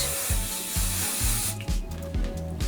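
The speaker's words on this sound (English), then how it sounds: "I also use a little bit of hairspray to fix it." Hairspray sprayed onto a Barbie doll's hair during a hair restoration, a steady hissing spray lasting about a second and a half before stopping, with soft rubbing and handling noises continuing underneath.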